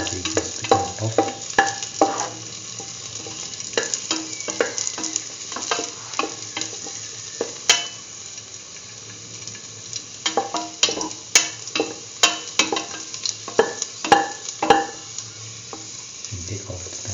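Raisins frying and puffing in a pan for a sweet carrot vermicelli soup, a steady close sizzle broken by frequent sharp pops and clicks of stirring, continuous throughout with no voices.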